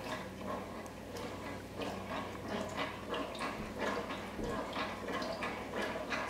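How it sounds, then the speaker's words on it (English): A spoon stirs thick pesto inside a Tefal Cook4Me electric cooker pot, making quiet, irregular clicks and soft scrapes close by. "Give that a good stir."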